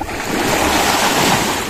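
Ocean waves wash onto a beach in Ilocos Norte, a loud, close, steady roar of surf with wind noise and no voices.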